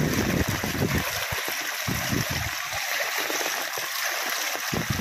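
Floodwater after torrential rain rushes and churns through a swollen river, a steady broadband roar with splashing that stays loud and close from start to end.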